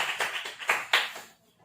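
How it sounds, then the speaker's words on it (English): A classroom group applauds the winning team with a short burst of hand clapping, several loud claps in quick succession that thin out and fade within about a second and a half. "let's give a round of applause for team number 2"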